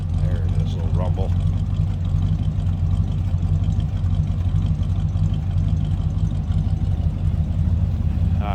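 A 1967 Buick GS 400 idles with a steady low rumble held close and even throughout, a faint voice briefly audible over it near the start.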